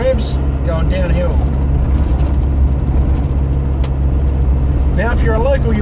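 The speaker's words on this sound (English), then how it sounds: "Revs going downhill." Engine of a 4x4 vehicle droning steadily in a low-gear rumble while driving downhill on a rough, rocky track, loud and continuous, with someone talking over it.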